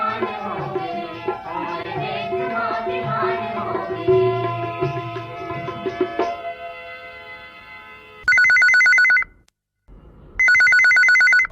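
A telephone rings on a Chhattisgarhi folk-song phone-in radio show. A song fades away, then two loud, even electronic ring bursts follow with a short gap between them.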